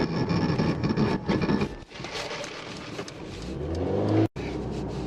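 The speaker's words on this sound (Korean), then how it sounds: "잠깐 시속 100에서 제동 한번 해보겠습니다" A Mercedes-AMG CLA 45S 4Matic+ with a 2-litre engine braking hard from 100 km/h, a loud roar of road and tyre noise that fades and shifts as the car slows, ending in a sudden brief cutoff.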